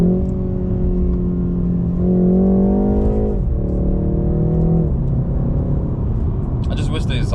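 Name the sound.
car engine while cruising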